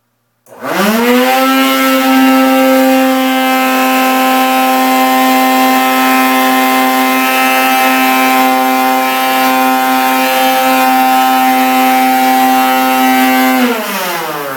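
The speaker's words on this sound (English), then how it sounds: "whether or not you can unclog a drain with with a wet dry vac" A wet/dry vacuum switches on, drawing on a clogged drain, and holds a loud, steady motor whine for about thirteen seconds before spinning down at the end.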